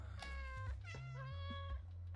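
A cat in the video game Stray meows repeatedly, drawn-out tonal cries, one after another, over a low steady background hum.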